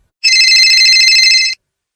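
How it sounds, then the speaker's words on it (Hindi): Phone ringing sound effect in an animated story, a loud electronic trilling ring lasting just over a second, starting and stopping cleanly against silence. "कुछ देर बाद फोन की रिंग के साथ उसकी नींद खुली।"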